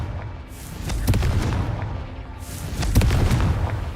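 Two heavy fiery blasts from a Confringo curse in Hogwarts Legacy, each a loud burst with a rumbling tail, about two seconds apart, over a low background bed, no talking.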